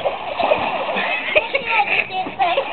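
Water splashes and churns at a pool after someone dives in, a busy wet sloshing with sharp bursts, while children and an adult talk nearby.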